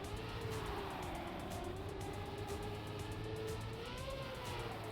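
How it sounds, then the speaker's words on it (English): A race car engine in the Trackmania racing game howls continuously at high revs, its pitch gliding up and down through gear changes, loud and steady with no voices. "You could have heard his car was howling up."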